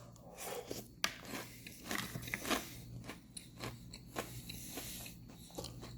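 Peanut butter chocolate cereal is crunched and chewed close to the mic, giving crisp, irregular bites and crackles that come in a loose rhythm with no talking.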